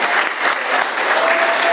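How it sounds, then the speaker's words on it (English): A crowd at a recovery group meeting gives a warm round of applause for a guest speaker, steady dense clapping that holds at an even level throughout, with no talk over it. "let's just give Keith a nice warm a round of applause for him coming here on a holiday"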